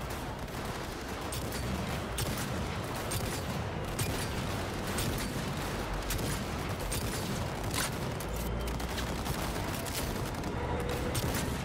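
Dense gunfire in the video game Cyberpunk 2077, a continuous loud barrage of rapid shots and clattering mechanical noise with no pause.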